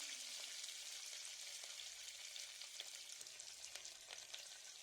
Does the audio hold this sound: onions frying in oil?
yes